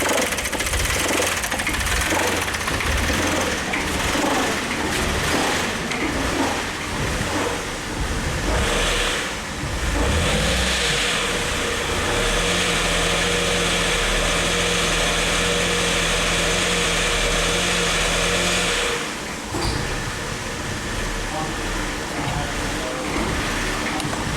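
A 2009 Suzuki XL-7 engine with a snapped timing chain runs rough and loud, a steady uneven drone with knocking and brief dips in revs throughout.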